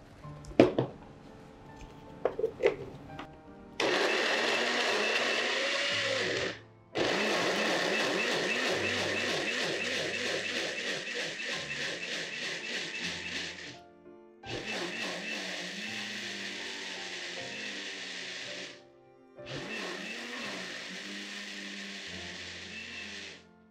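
A kitchen blender whirs through Rujak Aceh ingredients mixed with water, running loud and close in four long bursts separated by short pauses, after some faint clatter at the start.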